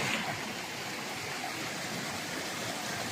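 A powerful river current roars in a steady, unbroken rush, close and fairly loud, with no talk over it.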